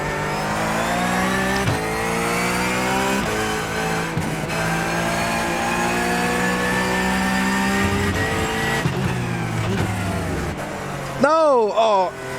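A Porsche 911 GT3 Cup racing at Interlagos in iRacing howls through sustained high revs, its pitch climbing and dropping with gear changes, while someone talks over it; near the end the engine pitch wavers sharply.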